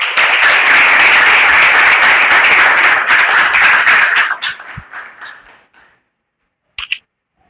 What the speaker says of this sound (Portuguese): E uma salva de palmas aí para o Matheus.